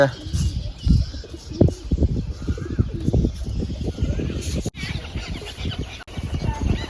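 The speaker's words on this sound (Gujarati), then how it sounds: "આવે છે કબૂતર નીચે ધીમે ધીમે" Pigeons coo and flutter nearby in soft, repeated bursts while a person talks over them throughout.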